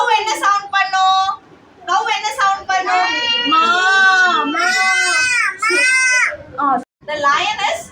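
During a storytelling session, a voice imitates a cow's moo in long, drawn-out wavering calls, close and loud, broken by short pauses.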